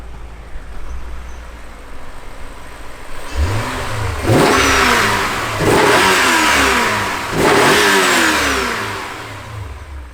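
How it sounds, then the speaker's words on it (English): A Dinan-tuned BMW E39 M5 with a naturally aspirated V8, warmed up, revs alone in three strong rising-and-falling blips after a few seconds of steady idle, loud and close. "I want to give it a little bit of revs and showcase how this really sounds."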